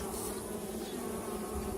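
A dense, continuous buzz of many honeybees swarming close by, steady and loud with no pauses.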